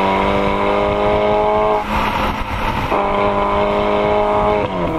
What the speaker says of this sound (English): Just listen to it whuffle at low RPM and blast into a quintessential Ferrari soundtrack once you really get into it.